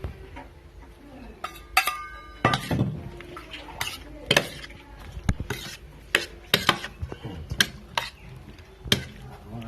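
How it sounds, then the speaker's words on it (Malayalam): A spoon stirs ground pepper and salt into ripe mango in a metal or ceramic bowl, giving sparse, sharp clinks and scrapes at irregular intervals against a quiet kitchen background. "ഇനി നമുക്ക് ഇത് മാങ്ങയിലേക്ക് ഇട്ടിട്ട് നന്നായിട്ട് ഇളക്കി ചേർക്കാം"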